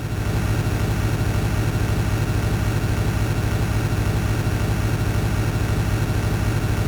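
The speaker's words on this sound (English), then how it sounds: "Oh, I love that engine sound." Steady, droning bus engine from the Desert Bus VR video game, a continuous low rumble at constant loudness with no variation in rhythm, close and alone without any talk.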